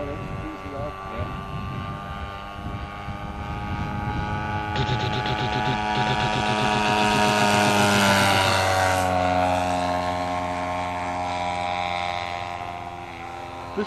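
A Nieuport 17 model airplane flies with a buzzing propeller engine drone that rises and falls in pitch as it passes, loudest midway, with people talking faintly underneath.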